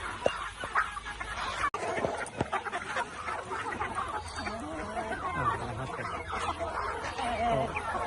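Phu Phan black chickens, including a hen about five months old and close to laying, cluck and chatter softly at close range in a farmyard, with scattered calls running through steady background noise and some talk.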